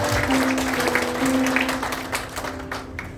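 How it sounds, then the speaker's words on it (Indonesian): Applause from a church revival congregation in Malang, a steady broad clatter of clapping with a sustained tonal hum running beneath it, continuing at moderate level throughout. "Boleh tepuk tangan buat ini"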